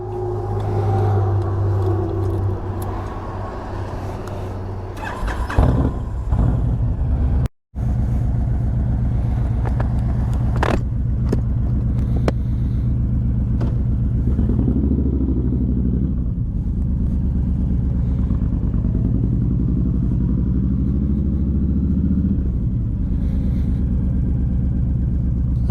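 A 2011 Honda VT1300X Fury motorcycle rides on the road, its engine a steady low, rumbling drone that runs loud and continuous throughout. There is one brief dropout partway through.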